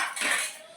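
A metal spoon clinks briefly among steel plates and dishes, one quick close rattle with no talking.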